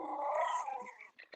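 A dog growls in a low, rough snarl aimed at another dog seen through a window indoors, the growl trailing off into a couple of short sharp whimpering yips at the end, close and moderately loud.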